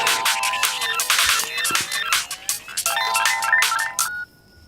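An electronic telephone ringtone sounds in a Telugu film scene, with loud, bright repeating trilling bursts in quick rhythmic groups that cut off abruptly just before the end.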